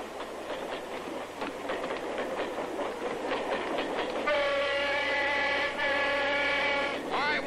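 Train cars rolling on rails with steady rumbling and rhythmic clatter, followed by a long sustained horn or whistle blast near the end; continuous and fairly close, with no talk.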